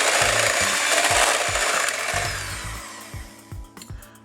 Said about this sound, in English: and give it a quick whisk again